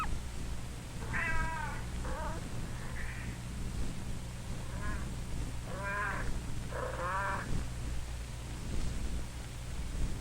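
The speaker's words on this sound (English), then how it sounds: "Robin and Billy hear a loud mewing." A kitten in a kitchen mews again and again, its short, high cries coming in bursts and pauses over a steady low hum in the room.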